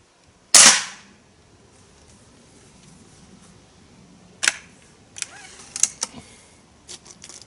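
A Hatsan .25 caliber air rifle being sighted in on a target: one sharp, loud crack near the start, followed later by several lighter clicks and mechanical handling noises, with no talk.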